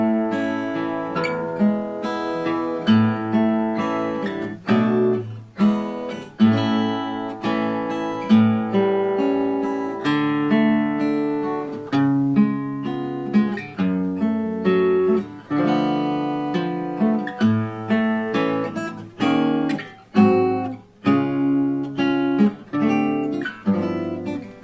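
Acoustic guitar strums and picks through the chords of a song in straight time, a steady close solo performance with ringing chord voicings and no voices.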